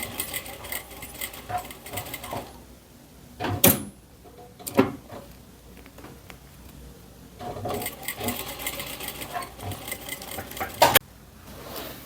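A sewing machine stitches fabric for women's elastic-waist shorts in close, uneven bursts, with pauses and sharp knocks and clacks from handling between runs; no one speaks.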